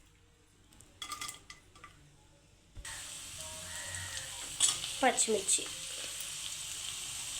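Sliced onions, green chilies and curry leaves sizzle and crackle steadily in hot oil in a kadai for a fish curry, with a few louder spatters and a metal spoon stirring and clinking against the pan.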